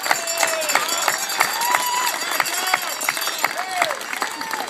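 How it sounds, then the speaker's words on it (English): A crowd applauds and cheers steadily at a baseball jersey retirement ceremony honoring Kirby Puckett in Visalia, with dense clapping and scattered whistles or calls throughout. "Let's give him a round of applause."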